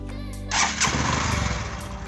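A Bajaj CT110X BS6 motorcycle engine starting: a short starter whir gives way to a loud, broadband catch as the single-cylinder engine fires and settles into a steady, close idle.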